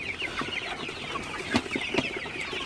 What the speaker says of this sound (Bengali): তো মুরগিগুলো কিন্তু খুবই ভালোভাবে খাবার খাইতেছে